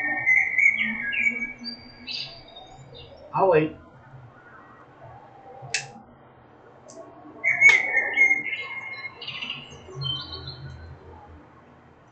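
Birds chirp sporadically outdoors in scattered short calls, some near and some farther off, while a person speaks briefly among them.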